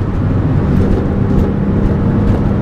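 A Porsche 996 engine droning loud and steady under hard acceleration, a dense low rumble inside the car with no break between gears and no talk.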